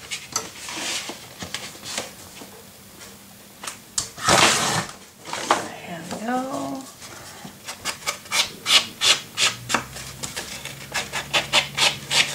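Paper for a mini album pocket is trimmed with repeated scraping, rubbing strokes and a few short rasps that speed into a quick rhythmic series near the end, close and fairly loud, with no talk.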